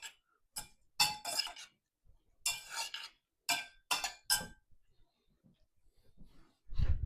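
Asparagus being tossed with Parmesan cheese and salt in a glass bowl, a series of quick clinking and scraping bursts in uneven clusters, close and fairly quiet with short pauses between them.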